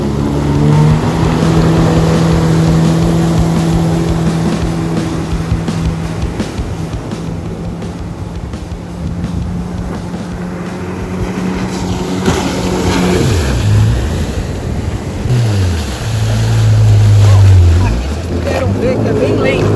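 A 2021 Yamaha VX Cruiser HO jet ski accelerating hard on water, its engine droning loudly with a rising pitch and then shifting tone, mixed with water and wind rush; close and continuous.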